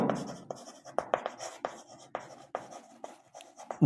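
A pen writes an answer to a Class 5 math subtraction problem, with close, quiet scratching strokes and taps coming in short irregular bursts, no voice present.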